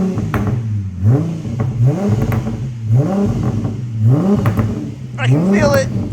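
A Nissan VQ V6 engine revs again and again in a rising, repeating pattern, fairly close, with people talking over it.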